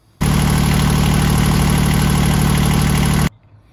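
A Yanmar 3GM30F marine diesel engine starts abruptly and runs with a loud, steady rhythmic chugging drone for about three seconds before cutting off to quiet.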